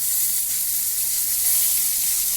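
Shol fish (snakehead) frying in a pan with oil, a steady close hiss and sizzle filling the whole stretch without pause, with no talking.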